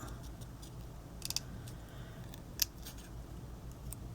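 Scissors snip through paper to cut out a tombstone embellishment for a Halloween craft: a quick cluster of sharp crisp snips near 1.3 seconds, a single snip around 2.6, then a faint one at the end, close and soft over a quiet room hum.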